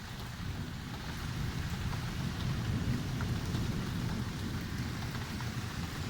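Rolling thunder rumbles continuously through steady rain during a summer storm in Bath, a low, sustained roar close by with rain pattering on surfaces throughout and no voices.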